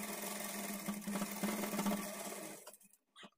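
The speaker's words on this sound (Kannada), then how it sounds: "ಈ ಕಡೆ ಎಡ್ಜಲ್ಲಿ ಎಕ್ಸ್ಟ್ರಾ ಬಿಟ್ಟಿರೋದನ್ನು ಈ ಥರ ಒಳಗಡೆಗೆ ಫೋಲ್ಡ್ ಮಾಡಿಕೊಂಡು ಸ್ಟಿಚ್ ಮಾಡ್ಕೊಳ್ಳಿ." A sewing machine stitches the folded-in edge of a blouse with a close, steady whir for a few seconds, then stops abruptly and gives one short final burst.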